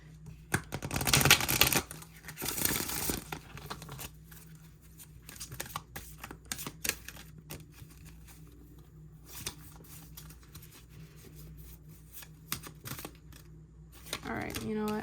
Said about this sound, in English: I'm gonna pull some cards from this deck to answer your questions.